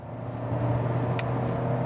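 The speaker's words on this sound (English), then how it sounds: "Let's put that to the test by trying to merge with extremely fast freeway traffic." A Honda HR-V accelerating to merge onto a freeway, its engine giving a steady, moderately loud drone inside the cabin that builds slightly, mixed with road and wind noise and no talk.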